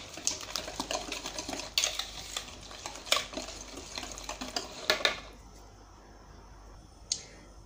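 Butter is worked into crumble ingredients in a bowl for an apple crumble, with brisk clicking and scraping strokes for about five seconds, then a quiet lull and one last faint tap.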